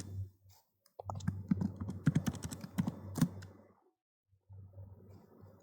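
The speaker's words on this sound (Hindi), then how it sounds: "गूगल पे हम टाइप करते हैं सिमिलर वेब।" Rapid typing on a computer keyboard while entering a web search, two bursts of quick, close key clicks separated by a short pause, with a steady low hum underneath and no talking.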